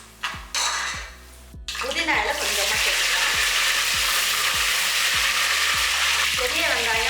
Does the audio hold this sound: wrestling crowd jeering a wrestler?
no